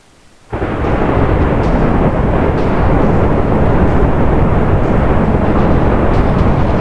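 Thunder from lightning in the video game Minecraft starts abruptly as a loud, sustained rumbling roar and holds steady and dense for about six seconds.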